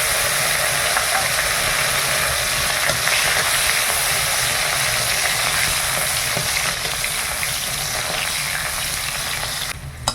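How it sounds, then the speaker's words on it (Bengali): Bitter gourd (uchhe) frying in hot oil in a village kitchen, a steady dense sizzle with crackling bursts and occasional stirring clinks, loud and close throughout with no talk. "এবার উচ্ছেটা ভেজে নেব।"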